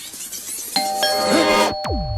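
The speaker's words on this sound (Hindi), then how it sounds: "जब भी ये घंटी बजती है" A doorbell chimes twice, two bright tones followed by a falling tone, clear and close, with a low background murmur.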